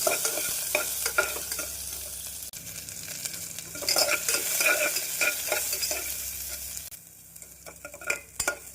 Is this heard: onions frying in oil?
yes